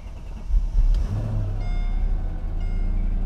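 A Mercedes SL500 is started with the key, its engine turning over and catching, then running at a steady idle with a faint beeping over it.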